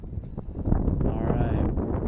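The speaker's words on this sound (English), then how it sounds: "Ooh, very windy." Strong outdoor wind buffets the microphone in continuous loud, rumbling gusts with a rough, broadband roar throughout.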